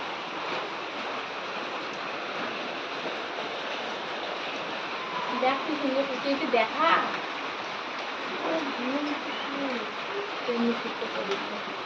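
Steady rain falling outside, an even wash of hiss that fills the whole stretch, with faint, indistinct sounds rising briefly in the middle.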